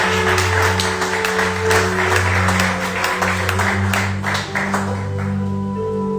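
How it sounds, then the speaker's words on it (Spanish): A church congregation applauds God during a sermon, a loud, steady burst of clapping mixed with a sustained musical drone underneath, easing off toward the end. "Dale un aplauso a Dios."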